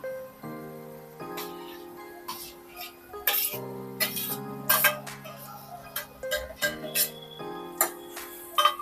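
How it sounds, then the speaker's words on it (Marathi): Fried potatoes being stirred into gravy in a pan for aloo changezi, with steady clinks and taps of a spoon against the pan running throughout over sustained background music. "आता आपण एकदा मिक्स करून घेऊया आणि फ्राय केलेले बटाटे आता आपण यामध्ये काढून घेऊया"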